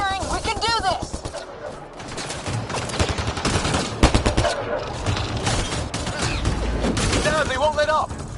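Rapid automatic gunfire in the video game Mass Effect Andromeda, dense bursts of shots rattling continuously and loudly, with a character's voice speaking over the battle and occasional heavier booms.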